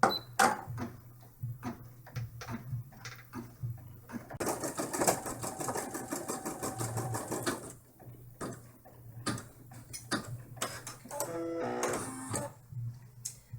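A home embroidery machine stitches an in-the-hoop dollhouse bag, its needle ticking in a quick, steady rhythm. Brief pauses and thread trims break the run, and small mechanical clicks and whirs rise near the end.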